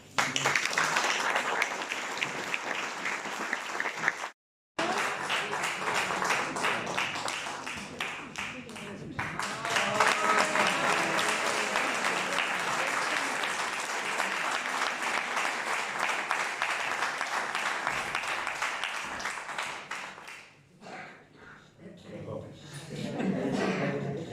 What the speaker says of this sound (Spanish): os pido a todos un aplauso